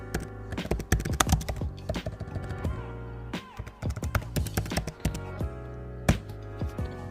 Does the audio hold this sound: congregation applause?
no